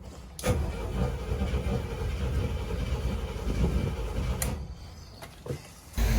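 The starboard engine of a Bertram 28 boat back on the water runs with a steady low rumble throughout, close and fairly loud, with a couple of sharp clicks or knocks and no talk.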